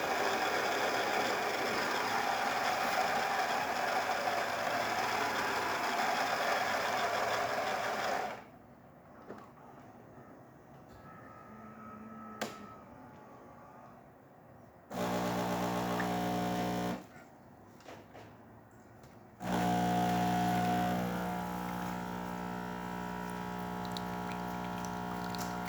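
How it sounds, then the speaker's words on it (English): A Gaggia Milano espresso machine brewing a cup of coffee, its pump buzzing loudly at first, then cutting out into quieter stretches before droning steadily again in bursts. "let's go ahead and test it and make a cup of coffee in it"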